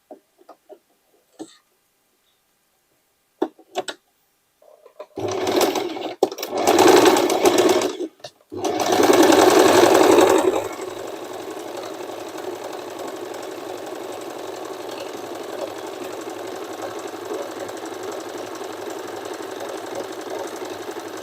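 Sewing machine stitching old shirts and jeans into an overall dress: a few short bursts of fast mechanical whirring that stop and start, then a steady loud running stretch that settles into a continuous lower hum.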